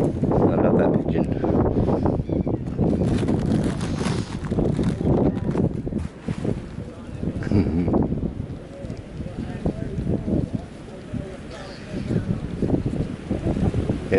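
Wind gusting across a seaside pier at Ryde, a steady rushing buffet against the microphone with low rumbling bursts, while a person talks over it throughout.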